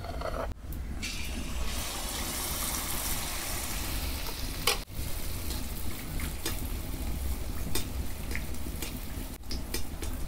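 Jaggery pitha batter fries in hot oil, giving off a steady, close sizzle with constant crackle and bubbling. A few brief clicks and utensil knocks break into it.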